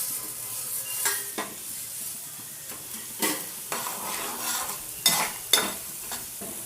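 Urad dal and cumin seeds fry in hot oil for tamarind pulihora, giving a steady close sizzle broken by several sharp stirring scrapes and spoon knocks against the pan, with no talking.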